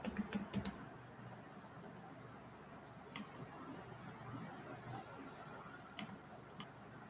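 Typing on a computer keyboard while installing sysstat in an Ubuntu terminal: a quick cluster of clicks at the start, then sparse isolated keystrokes over faint background hiss.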